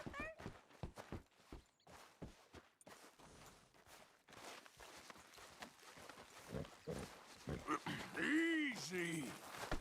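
Horse hooves clop in a quick series of sharp beats in the Red Dead Redemption 2 video game, followed by softer steps, all quiet beneath someone talking.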